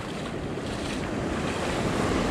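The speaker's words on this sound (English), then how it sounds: "The ford was in full flood" A river ford on the Bridle Track in full flood after heavy rain, about knee deep, roars with a dense, constant rush of water at close range and nothing else audible.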